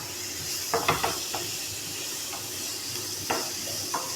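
Onions sautéing in a pan for a duck egg roast, a soft steady sizzle with a few scraping stirs of a spoon near the start and again later.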